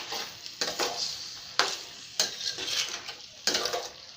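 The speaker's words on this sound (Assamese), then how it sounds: "ভালছে মই লৰাই দিছোঁ" Mutton curry being stirred in a karahi wok, with repeated scraping strokes of a spoon against the metal pan over a soft sizzle, close and fairly loud in an irregular rhythm.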